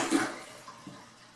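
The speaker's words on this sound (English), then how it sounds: "So, we'll start by flushing." Toto toilet flushing, a brief loud rush of water draining from the bowl, tapering quickly to a faint trickle with no voices.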